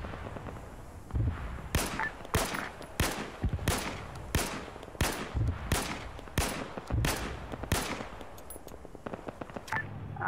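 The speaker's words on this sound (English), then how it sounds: "I'd say dismount, they're shooting at you." Repeated gunfire from enemy contacts in the military shooter game Arma 3: about ten loud, sharp bursts spaced roughly half a second to a second apart, crackling over a steady low rumble with no talking.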